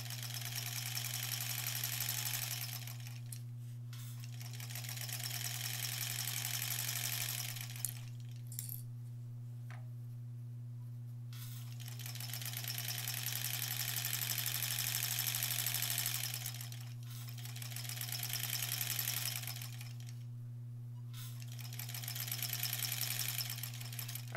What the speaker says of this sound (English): I'll trim the first two off and sew those together